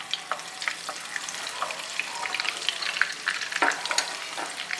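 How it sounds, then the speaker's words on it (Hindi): Butter melts into hot oil in a karahi for a mash daal, crackling and spitting with a bright, busy sizzle and sharp pops close up, and no speech. "इसके अंदर ऑयल है, ऑयल के अंदर हम जो हमारे पास मक्खन था वो हम डाल देते हैं।"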